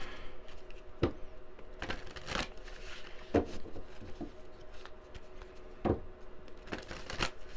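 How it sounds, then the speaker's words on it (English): Oracle card deck being shuffled by hand during a reading, with a series of sharp riffling bursts at irregular intervals over a soft papery rustle, close and fairly quiet. "I did not pre-shuffle this deck"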